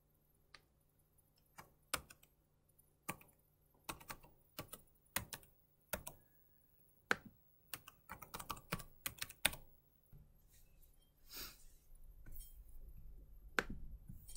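Typing on a computer keyboard to enter a new password, a quiet close run of irregular key clicks in short bursts, denser toward the end.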